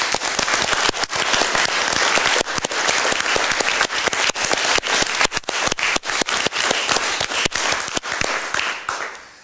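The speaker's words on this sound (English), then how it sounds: "I think we'll take that applause" An audience applauds at a 2002 presentation about the rebuilt 2LO transmitter. The clapping is loud, dense and sustained, with sharp individual claps standing out, and it thins slightly near the end.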